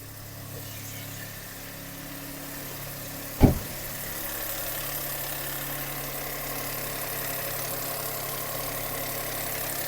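A Škoda Rapid 1.0 TSI engine idles steadily while warming up, a low even hum broken by one brief sharp knock partway through.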